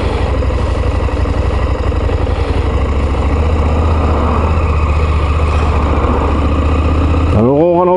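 A KTM 890 Adventure motorcycle engine runs loud and close in a steady throbbing idle-like rumble for several seconds, then revs up sharply with a rising whine at the end.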